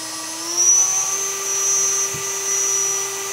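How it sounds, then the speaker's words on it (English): A CNC spindle motor driven by a variable frequency drive spins up toward 24,000 RPM, its steady electric whine rising in pitch and then holding a constant high tone, loud and alone with no talk. "So you'll see that the spindle is turning, and when I turn it up, it'll increase in speed."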